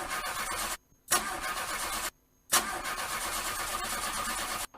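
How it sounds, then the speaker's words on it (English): A faulty car engine cranks without catching: three loud, close bursts of whirring starter noise, each cut off by a brief silence before the next attempt. "Oga, this your engine don kaput o."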